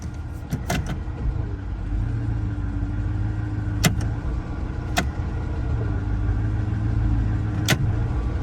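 Steady low engine rumble of a used police car on the move, with occasional sharp clicks and a slight rise in pitch as it shifts, the transmission going roughly in and out of gear.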